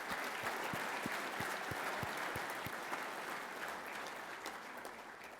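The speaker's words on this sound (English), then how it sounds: "Let's give them a big round of applause." An audience at a firefighters' union legislative conference gives sustained applause, a steady wash of many hands clapping at once, fairly distant in the hall, with some louder individual claps standing out early on.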